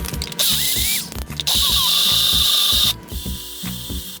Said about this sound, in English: And now it's time to blend.